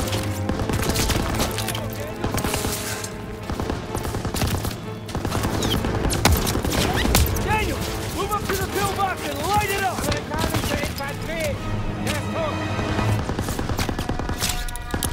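Sustained heavy gunfire and machine-gun bursts pour on a bunker in the game Call of Duty WWII, a dense, continuous barrage with booms and crackling impacts, mixed with music and shouted voices throughout.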